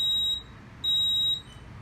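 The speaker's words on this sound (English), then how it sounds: "we have an alarm on something on an unconfigured device" An Edwards fire alarm panel sounds its trouble signal, two steady high-pitched electronic beeps of about half a second each, close and clear over a quiet room hum.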